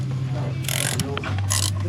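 A wrench works loose the oil drain bolt on a Harley-Davidson Low Rider S motorcycle with an M8 engine, giving two short metallic ratcheting bursts over a steady low hum, close and fairly quiet.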